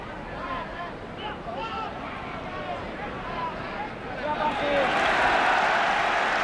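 Crowd at a Finland versus England football match applauding a player, a swelling wash of clapping and cheering that grows louder toward the end, with a commentator's voice earlier over stadium murmur.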